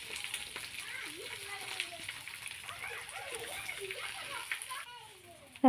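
Onion, green chili and bay leaf frying in hot oil give a steady crackling sizzle, while a faint voice and soft tonal sounds drift in the background.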